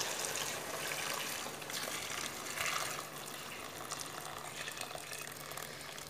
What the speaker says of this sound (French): maintenant je vais mettre de l'eau.